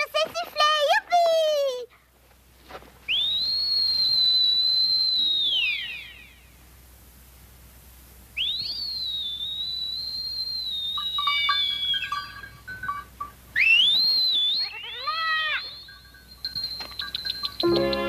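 Heidi, a cartoon girl, whistles in long clear sustained tones with gentle swoops, several separate phrases broken by pauses, loud and close, with brief voices before the whistling and near the end.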